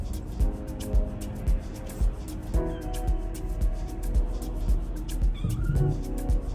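House cats meow repeatedly, with clear tonal calls rising and falling over a steady background hum and faint ticking, close by and without talk.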